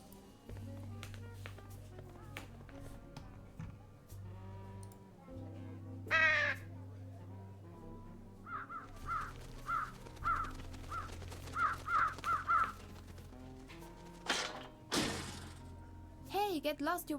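Crows caw in the video game Trüberbrook, a series of short repeated calls in the middle stretch, among game sounds, thuds and music with a player talking over it.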